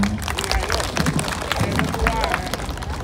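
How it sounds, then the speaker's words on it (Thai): An audience applauds at a live outdoor show at the Thung Si Mueang fair in Udon Thani, Thailand: dense, loud clapping from a crowd continues for the whole stretch, with crowd noise and a voice in the background. "ขอเสียงปรบมือด้วยครับ"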